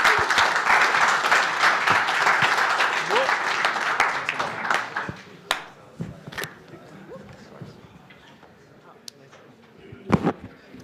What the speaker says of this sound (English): So please give a huge round of applause for our panel.